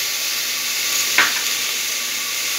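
Peas, capsicum, carrot, potato and spinach stir-frying in a pan, giving a loud, steady hiss and sizzle with a brief scrape of stirring midway, no voices.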